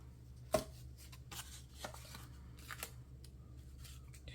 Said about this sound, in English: These, I'm just tearing. Some I'll tear, and some we'll cut.